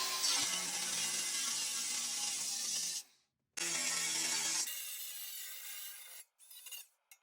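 An angle grinder with a cutting disc slices an aluminum car heel plate, giving a loud, close, continuous high whine and rasp that stops for a brief pause, then resumes and tapers off.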